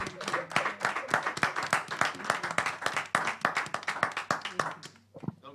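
A church congregation claps and applauds in dense, steady rhythmic bursts of many hands, loud and close, tapering off near the end.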